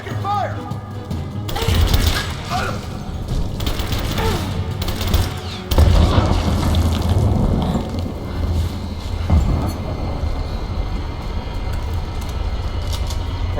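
Bursts of automatic gunfire in a firefight in Rise of the Tomb Raider, loud rattling volleys starting and stopping over a rumbling background, with heavier blasts mixed in.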